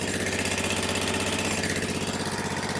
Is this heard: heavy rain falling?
no